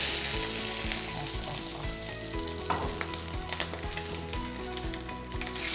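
A turkey roll fries in hot oil in a pan, giving a loud, steady sizzle with frequent sharp crackles and pops throughout. No one speaks.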